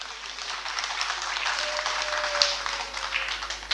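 An audience at a film festival claps steadily for a few seconds, a dense, fairly loud wash of applause from a crowd in a hall, with no voices over it.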